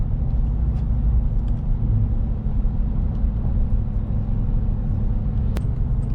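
A 2019-or-later Ram 1500 with the 5.7 Hemi V8 and a Borla S-Type catback exhaust cruises at about 55 mph in four-cylinder mode, giving a steady low exhaust drone and road rumble throughout, with no talk.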